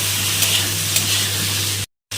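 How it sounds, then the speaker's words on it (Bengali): Cauliflower sizzles in hot oil with salt and turmeric, a close steady fry with faint stirring scrapes over a low hum, ending in a brief silence. "আমি ফুলটা একটু ভেজে নেব।"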